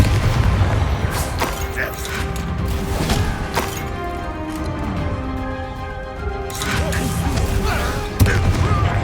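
Explosive Confringo spell blasts in the Hogwarts Legacy video game, booming repeatedly over a dense, loud battle soundscape with sustained musical tones and crashes throughout.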